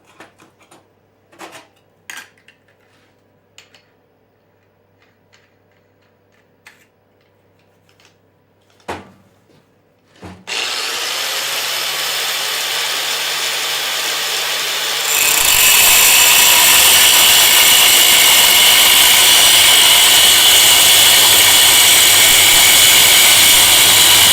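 A power grinder fitted with a flap disc is worked on metal. Scattered light clicks and handling noises come first, then the tool roars up loudly and keeps going, rising to an even louder, harsher sustained grind partway through.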